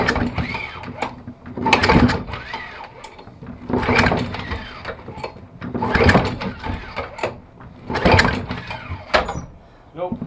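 A Craftsman 6.5 HP lawn mower engine is cranked repeatedly with the pull cord, giving about five rough mechanical bursts spaced a couple of seconds apart that never catch and run.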